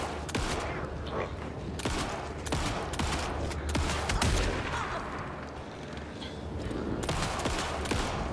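Shotgun blasts and other gunfire in a tense combat scene of the video game Alan Wake 2, sounding as repeated sharp bursts over a dense, continuous layer of game noise and music.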